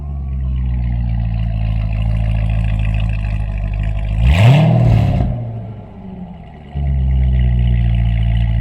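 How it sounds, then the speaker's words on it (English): Bone stock LS7 V8 in a Corvette with the mufflers open rumbles loud and deep at idle, swells into one sharp rev around the middle, dips briefly, then settles back to a heavy idle. "this thing is a bone stock LS7, which sounds absolutely phenomenal with the mufflers open"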